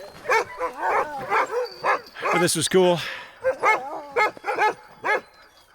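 Sled dogs at a winter mushing camp in Talkeetna, Alaska, yipping and barking in rapid repeated bursts close by, with a person speaking briefly over them.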